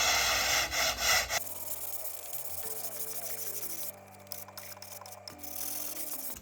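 A flexible sanding strip rubs back and forth along a curved wooden edge in short, rhythmic scraping strokes, close and fairly quiet over faint background music.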